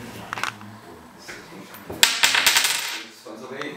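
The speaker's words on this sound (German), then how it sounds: "Jetzt entscheidet die Münze" A coin is flipped and lands in a sharp metallic ring with a few quick bounces and a short rattle, heard close up under faint background noise.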